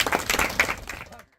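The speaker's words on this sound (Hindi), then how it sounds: "बहुत अच्छे, तालियां बजा देंगे।" Audience at a divine mahayagya ritual at Shanidham in Gurugram clapping together, a short burst of applause lasting about a second that cuts off quickly.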